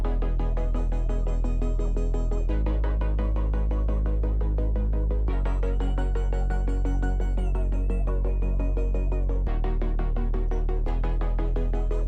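A pitched-up sample in an electronic track, chopped into a steady rhythmic chord pattern by an LFO over a deep sustained bass, with shifts in the bass note every few seconds; dense, continuous and even in level, with no voices.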